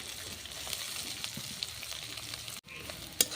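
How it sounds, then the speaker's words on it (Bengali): Onion, garlic and green chilli fry in oil in a wok, giving a steady, soft sizzle throughout with a few faint stirring clinks and a brief gap near the end. "পেঁয়াজ দিয়ে দিলাম তেল দিলাম রসুন কুচি আর হচ্ছে কাঁচামরিচ তো সেইগুলো হচ্ছে আমি সব কিছু ভালো করে আর কি বেজে নেবো"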